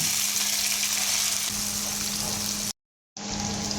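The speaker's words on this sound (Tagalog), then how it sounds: "Dito na rin tayo magigisa. So unahin natin ang ating onion." Onion sizzles in hot oil in a pan as salmon steak is cooked, giving a loud, steady hiss of frying up close that cuts out briefly and then resumes.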